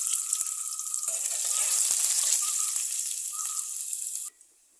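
Hot oil crackles and sizzles continuously at close range as chopped shallots fry, with a few soft clicks, then cuts off abruptly just before the end.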